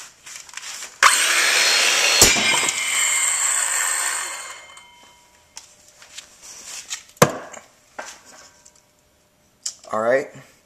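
A circular saw rips into a Western Digital hard drive, a loud sustained grinding whine of about three seconds that fades as the blade winds down, followed by sharp clattering knocks and brief talk.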